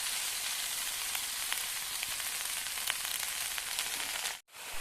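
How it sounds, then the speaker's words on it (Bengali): Bottle gourd greens hit hot mustard oil in a pan, giving a steady, loud sizzle with small crackles throughout and a brief dropout near the end. "এবার দিয়ে দেবো শাকগুলো।"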